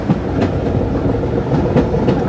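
The diesel-hauled Royal Scotsman train rolls off with a steady rumble and rhythmic clickety-clack of carriage wheels on rail joints, heard from inside a restored Victorian-style carriage in the Scottish Highlands, close and continuous.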